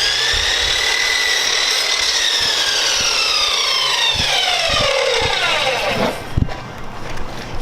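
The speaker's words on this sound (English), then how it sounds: "working the saw. He's cutting trim." Power saw cutting trim inside an RV under renovation, a continuous whining cut that rises and falls in pitch for several seconds, close and loud, with scattered knocks and handling bumps near the end.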